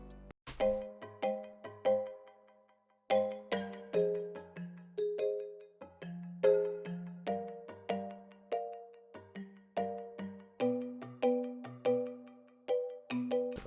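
Three layered synth mallet patches, including Technoid Mallets, play a bright pop melody of plucked, bell-like notes in a steady rhythm with short decays, clear and alone with no voice.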